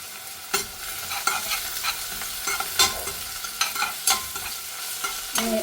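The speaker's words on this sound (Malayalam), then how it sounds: "ഇനി ചെറിയ ഉള്ളി കൂടി നമുക്ക് ഇതിലേക്ക് ഇട്ട് കൊടുക്കാം." Crushed shallots fry in hot oil for a Kerala-style nadan chicken curry while a spoon stirs and scrapes the pan in repeated strokes over a constant close sizzle.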